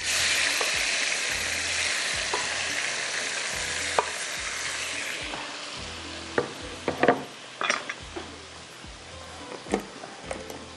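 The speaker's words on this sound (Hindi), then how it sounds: "जैसे ही देखिए ये ज़ीरा फ्राई हुआ" Cumin seeds fry in hot oil for a vegetable karahi, giving a dense, steady sizzle that gradually settles, broken by sharp clicks and pops of a spoon stirring against the pan.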